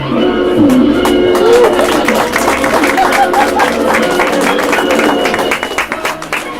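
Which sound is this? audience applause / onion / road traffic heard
audience applause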